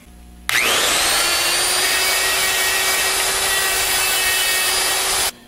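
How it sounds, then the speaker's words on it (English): A long mandrel with a sandpaper roll blends an AMC V8 timing chain cover, giving a steady, loud high-pitched grinding whine that starts abruptly and holds for about five seconds before cutting off, close and without talk. "So I'm going to go ahead and blend that with the long mandrel and sandpaper roll."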